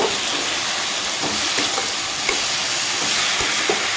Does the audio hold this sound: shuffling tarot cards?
no